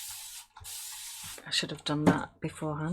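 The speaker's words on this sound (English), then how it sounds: "Let me just spray the underneath of it." Water sprayed from a bottle underneath a sheet in two long hissing bursts, close and loud, followed by a person talking.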